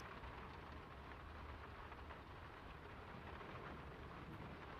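Rain pours down heavily in the video game Draugen, a steady, dense, even wash of sound with no pauses, heard faintly.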